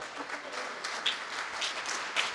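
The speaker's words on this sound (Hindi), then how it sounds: "पंकज ताली बजाओ" Audience clapping at a Jain religious discourse in Itarsi, a soft, fairly distant patter of many hands with a few sharper claps standing out, no talk over it.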